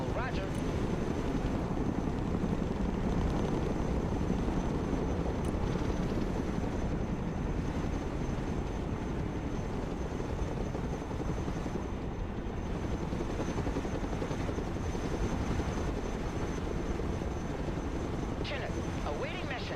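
Chinook helicopter in the military strategy game Broken Arrow, a dense, steady rotor and engine roar filling the whole stretch at constant loudness, with faint game chatter beneath.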